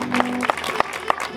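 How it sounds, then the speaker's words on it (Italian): Audience members at an outdoor band concert during the Festa di San Rocco in San Pier Niceto, Sicily, give a short burst of clapping with a few sharp claps, heard close alongside some voices. "se lo siamo stati fatecelo sentire con un bellissimo applauso."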